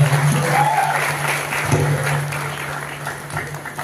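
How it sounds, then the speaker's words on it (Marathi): Audience at an award show breaking into applause, a burst of dense clapping that fades gradually over a few seconds, with a faint steady hum underneath. "त्यांच्यासाठी एकदा जोरदार टाळ्या होऊन"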